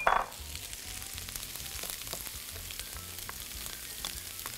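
Colored bell peppers, garlic and ginger fry in a pan for Mongolian chicken, a steady close sizzle with faint crackles running throughout, slightly louder as the ingredients hit at the start.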